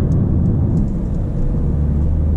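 Steady low engine and road rumble from a Mercedes A-Class accelerating onto a motorway in eco mode, a loud continuous drone heard from inside the car with no talking.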